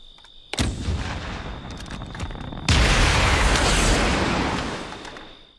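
In Call of Duty: Black Ops Cold War, a rocket-fitted Rocket Science AK-47 inspect animation plays. A sharp mechanical clack comes first, then a loud roaring rocket thrust bursts in and fades slightly toward the end.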